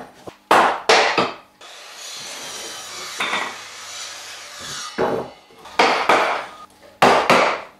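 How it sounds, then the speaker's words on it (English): Hand saw cutting wood for a mortise and tenon joint on a rustic wooden bench, several close, loud rasping strokes in bursts with a quieter steady sawing stretch between them. "cutting up to the line now."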